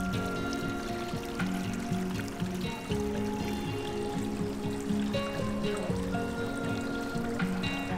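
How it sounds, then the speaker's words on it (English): Water trickles and pours steadily in a backyard bird water feature in a Houston garden, a continuous close burble that runs alone for the whole stretch. "It's my water feature for birds."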